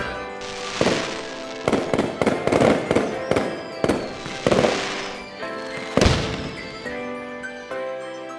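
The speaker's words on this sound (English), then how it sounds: "And we're here just in time for the epic fireworks show." The nighttime fireworks show at Tokyo DisneySea booms across the park in a rapid string of loud bursts and crackles, with a steady musical score swelling beneath the explosions.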